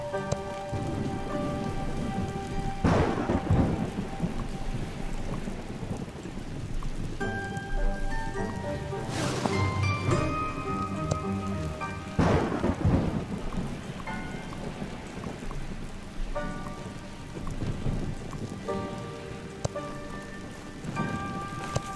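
Thunderstorm in the video game Old Man's Journey: steady rain patters on surfaces throughout, with deep thunder rumbles swelling at intervals under layered tonal game music.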